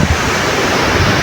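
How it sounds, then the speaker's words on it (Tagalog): Loud, continuous roar of large ocean surf in bad weather with wind rushing across the microphone, a steady wash of crashing waves close by. "Ang lalaki ng alon ngayon. So nakita nyo, sobrang laki ng alon."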